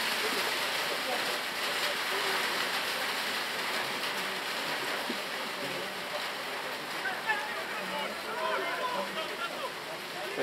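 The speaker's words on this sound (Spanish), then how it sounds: "Realmente está lloviendo muchísimo" Heavy rain pouring during a rugby bronze final in Tineo, a dense, steady hiss of downpour on surfaces heard close and continuous for the whole stretch, with faint distant crowd or voices underneath.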